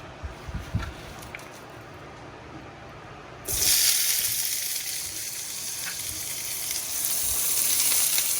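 Chopped onion and red pepper for a chicken corn chowder hit a hot pan with a sudden loud, bright sizzle that keeps going steadily as they start cooking, after a few soft knocks and clatters.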